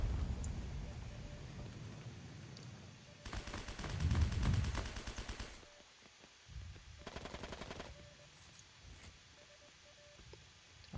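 Nearby automatic gunfire in the online shooter Heroes & Generals crackles in two dense bursts, a longer loud one and a shorter one a bit later, each a fast rattle of shots, with quieter game ambience between them.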